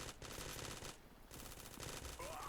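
UMP submachine gun in the mobile shooter Zula Mobile fires in rapid automatic bursts, dense and loud, with a short pause midway before firing resumes.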